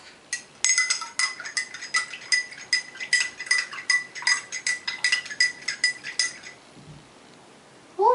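A spoon stirring a lot of salt into water in a glass, with rapid rhythmic clinking against the glass close up for about six seconds before stopping.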